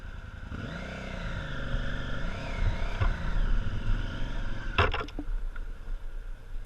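KTM 950 motorcycle climbing a rocky hill, its engine droning steadily and rising under throttle, with a sharp clatter near the end as the bike strikes rock.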